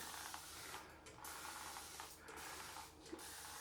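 Cold water sprayed from a spray bottle onto a freshly shaved head, three hissing bursts separated by short pauses, close and fairly quiet.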